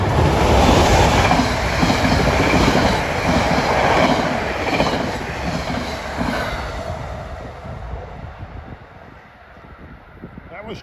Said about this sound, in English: That was train 3898 from Trenton to New York.